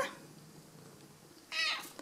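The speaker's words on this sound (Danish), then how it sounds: "Hej, lille kat." A cat gives a single short meow near the end, following a quiet stretch with soft background noise.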